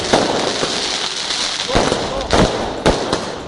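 Diwali firecrackers burst in a series of sharp, loud bangs at irregular intervals over a steady crackling background, with several distinct pops standing out near and loud.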